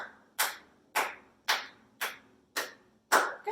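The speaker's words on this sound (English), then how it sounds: "So you can try to clap with me on the beat." Six evenly spaced hand claps keep a steady beat, each one sharp and fairly close, standing alone with no talking between them.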